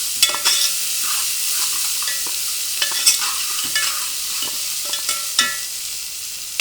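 Green chillies, curry leaves, ginger-garlic and turmeric fry in hot oil as a tempering for a broad bean curry, with a steady close sizzle and crackle broken by repeated scrapes of a stirring spoon.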